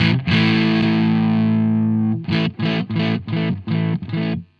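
Electric guitar through a Marshall 1959 Super Lead overdrive pedal, guitar volume rolled off for a slightly softened tone: one long sustained chord ringing out, then five short punchy strummed chords in quick succession.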